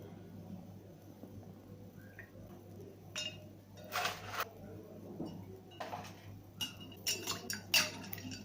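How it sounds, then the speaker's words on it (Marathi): Ice cubes dropped into a glass of lime mint juice, giving a few scattered clinks and clatters against the glass, moderately close, over a steady low hum with no talk. "हा बघा माझ्याकडे थोडासा बर्फ सुद्धा आहे आता तो घालणार आहे मी"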